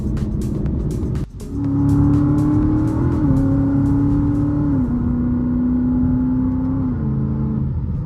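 A supercharged Lexus IS F drives along with a loud, close engine drone and supercharger whine that rises through the gears and dips at each shift, with a few clicks at the start and no talk.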